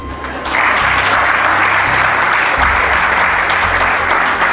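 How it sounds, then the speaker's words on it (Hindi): Dense, loud applause from a large audience at a national youth meet rises sharply after a brief quieter moment and holds steady to the end, with no speech on top. "अपने लिए तो तालियां बजा दो।"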